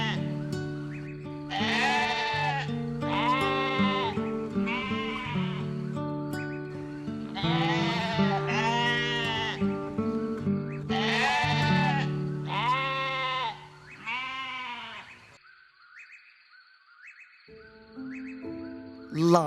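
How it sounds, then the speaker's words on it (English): A goat bleats repeatedly at close range, loud wavering calls coming in a steady series with short gaps, then tapering to quieter bleats near the end. "Goat. It's a goat."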